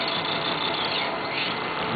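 A player piano air motor runs on about 20 inches of vacuum, giving a steady, dense whirring and hissing drone that holds at an even level throughout.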